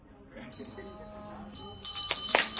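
A bright bell rings out over a quiet bridal shop, its tone sustained, followed by a louder burst of ringing and chatter near the end.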